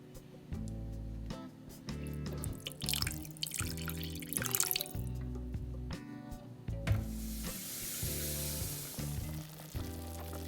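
Water pours and drips into a hot pot of braising short ribs, sputtering and sizzling, with a rushing hiss of steam building toward the end.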